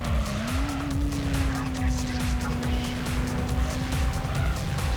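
A race car lapping a track in the Gran Turismo video game, a loud steady engine drone with a sustained tone and some tire squeal, constant and close throughout.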